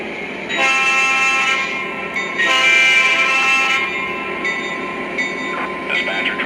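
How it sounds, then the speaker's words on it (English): A model train horn sounds in two long blasts over a steady rumble of rolling wheels, followed by a quieter run along the track; a Lionel Rio Grande GP-9 locomotive. "train is moving"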